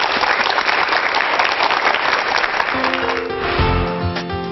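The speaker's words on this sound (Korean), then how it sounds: "김성일 교수님의 특강 힘찬 박수로 청해 듣겠습니다." A lecture audience gives strong, sustained applause to welcome a visiting professor. Near the end the clapping thins as a musical tone enters.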